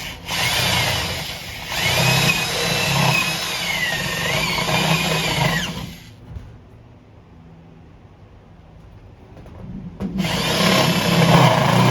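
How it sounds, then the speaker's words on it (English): Unibit step drill bit boring through roof trim, two loud grinding, whining bursts of drilling separated by a few seconds of quiet, close by, no talking. "Okay, now we'll switch over to the Unibit."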